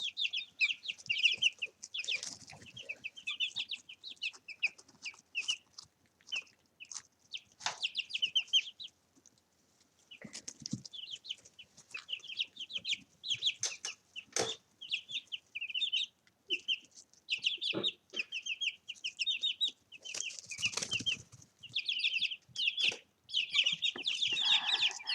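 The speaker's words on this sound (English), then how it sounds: "there's our little rooster right there" Young chickens in a brooder cluck and peep almost continuously, with bursts of wing flapping and scuffling. The chatter is dense and close, with a brief lull around the tenth second, and no one talks.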